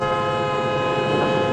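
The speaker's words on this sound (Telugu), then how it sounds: "7007 గోదావరి ఎక్స్ప్రెస్ 4వ నెంబర్ ప్లాట్ఫామ్ మీదకు వచ్చి ఉన్నది." The Godavari Express at a railway station platform gives a loud, continuous harmonic horn blast over dense rolling train noise, with no talking.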